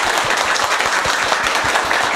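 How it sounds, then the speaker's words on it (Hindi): Teachers clap loudly and steadily together in a group for a couple of seconds, a dense continuous patter with no talking. "एक बार टीचर्स इनके लिए जोरदार ताली बजाएंगे"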